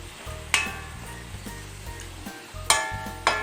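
Sliced onions sizzle in hot oil for a traditional sathakuppai cherra curry, a steady frying hiss broken by sharp metallic clanks and scrapes as a spoon stirs the pan.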